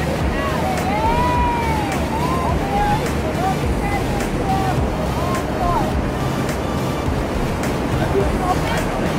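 Middle Falls at Gooseberry Falls, swollen with spring meltwater, gives a loud, constant, close rushing roar, with thin whistling tones drifting over it.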